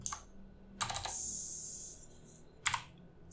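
Someone typing a command on a computer keyboard, a few quick clusters of soft key clicks with a short pause between them, close but quiet, no talk.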